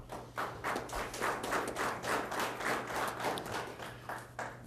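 Audience members clap at a city council meeting, a steady spread of scattered hand claps over a low constant hum, moderately faint and without talk.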